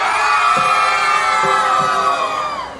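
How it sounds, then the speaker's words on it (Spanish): A crowd in the middle section of a live concert holds a long, loud, sustained communal shout that trails off toward the end, with scattered voices poking through. "El grito por el medio."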